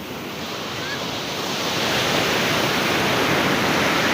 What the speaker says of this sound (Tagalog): kaya lang napakalakas naman ng alon